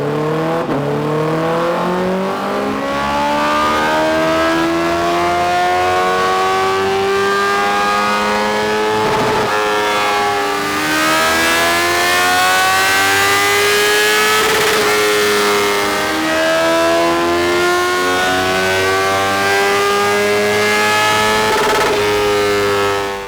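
A Honda CB650R motorcycle fitted with an Akrapovic exhaust revs repeatedly and loudly up close, the engine note rising and falling through several long throttle sweeps over a steady idle.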